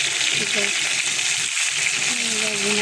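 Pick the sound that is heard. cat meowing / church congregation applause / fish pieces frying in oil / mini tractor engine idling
fish pieces frying in oil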